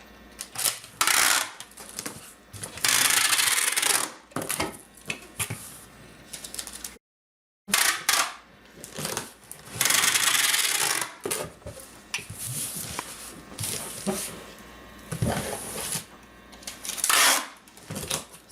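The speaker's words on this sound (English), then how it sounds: "so once I have it closed, I get the tape gun again" A tape gun seals the seams of a cardboard wreath shipping box, giving repeated loud bursts of ripping, screeching tape separated by short pauses and brief handling clatter.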